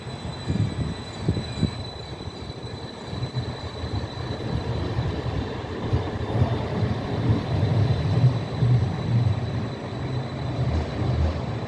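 Edinburgh tram riding along its route, heard from on board as a steady low rumble of wheels and motor with faint rattles and a thin high whine, continuous and fairly loud throughout.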